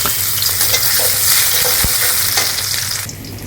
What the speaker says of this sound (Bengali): তেলটা গরমে আসতে পেঁয়াজ কুচিটা দিয়ে দেয়